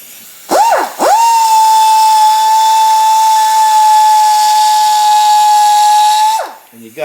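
A grinder works on a Husqvarna 576xp chainsaw muffler, spinning up twice briefly and then running loud and close in a steady high whine for several seconds before winding down.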